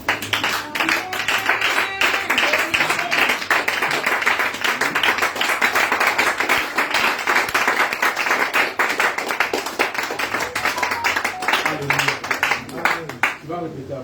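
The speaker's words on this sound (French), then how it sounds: "On va acclamer le Seigneur Jésus." A prayer-meeting congregation claps vigorously to acclaim Jesus, a loud, fast, sustained crackle of many hands with cheering voices mixed in, easing slightly toward the end.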